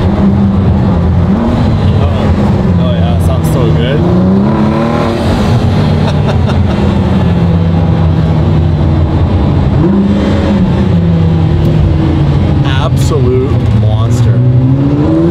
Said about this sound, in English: That sounds really good. That exhaust.